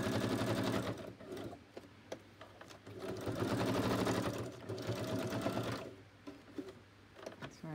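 Sewing machine stitching down appliqué elements in short bursts, rapid needle rattles that stop and restart several times, close and clear with brief pauses between runs.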